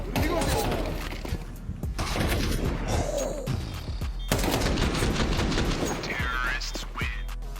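Counter-Strike AK rifle fire in a replay, with rapid bursts of gunshots cracking loud and close between lulls, while commentators talk over the action.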